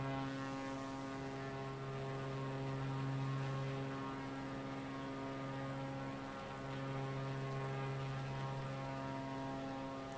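A small propeller airplane climbs in flight, its engine producing a steady, droning hum with a strong tonal whine that holds level throughout, heard from inside the cabin with no talking.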